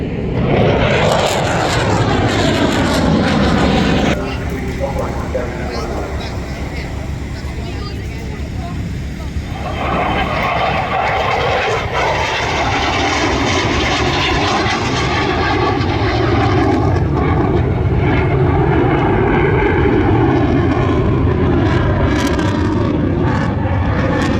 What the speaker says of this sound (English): So we've seen the F-16, and that was loud.